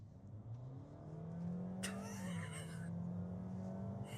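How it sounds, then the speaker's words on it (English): A 2025 Honda HR-V accelerates hard, its engine drone climbing steadily in pitch as heard from inside the cabin, with a brief burst of wind-like noise partway through. "That is some crazy acceleration, bro."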